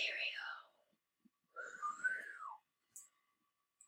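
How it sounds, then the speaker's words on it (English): A person gives a couple of short, breathy whistles, one falling tone and one wavering tone, heard faintly with gaps of silence between them. "that's a bad whistle"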